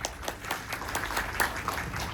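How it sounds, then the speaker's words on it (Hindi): Audience applause at a networking event, a steady wash of clapping from a crowd with faint sharp individual claps throughout, moderately loud and continuous. "एक बार जोरदार तालियां आपके लिए"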